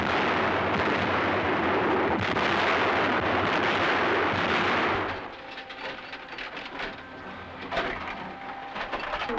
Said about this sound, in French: L'artillerie déployant ses feux dans la profondeur de la zone des combats a choisi le calibre de 155 mm